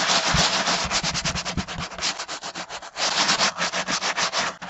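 Sand scrubbed against the bottom of a dingy bucket during natural cleaning: fast, rhythmic gritty rubbing strokes, loud and close, repeating steadily throughout without any talk.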